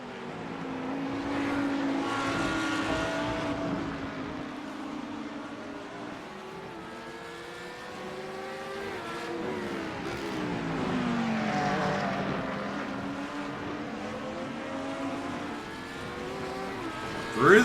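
GT3 race car engines roar through the chicane at Jerez, led by a Porsche, with loud sustained revs rising and falling as the cars brake and accelerate through the turns, close and continuous.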